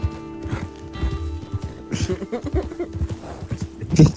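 A fast horse in the video game Red Dead Online clip-clops along at a steady gallop, with hooves thudding close and loud and a light patter like rain behind it.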